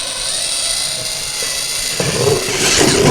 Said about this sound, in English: you don't want the drill or the bit go through very hard and destroy the edges